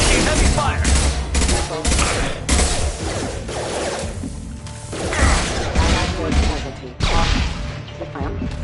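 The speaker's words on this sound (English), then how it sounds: "Taking heavy fire!" Sustained heavy gunfire in Mass Effect 2 combat, loud rapid bursts and impacts with sharp breaks, while voices talk over the firefight.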